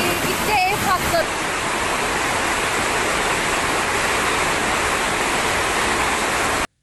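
Floodwater rushes loudly and continuously through city streets in Ankara after a storm and heavy rain, a dense, steady roar with a brief voice near the start.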